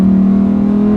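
Lamborghini Huracan EVO under full throttle on a wet road, a loud, steady, close engine roar with a strong low tone held through the whole second.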